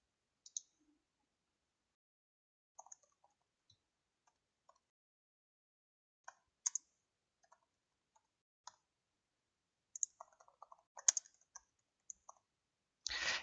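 Light computer mouse clicks sound sparsely and quietly in an otherwise silent room, single and double taps spread irregularly, ending in a short rustle.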